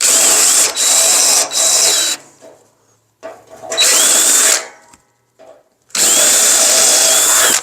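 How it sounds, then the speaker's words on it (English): A power drill bores into a base during installation of a blue flame heater, running in several loud, close bursts separated by short pauses. "you got to make sure when you send your drill bit all the way up in there, you're not hitting something"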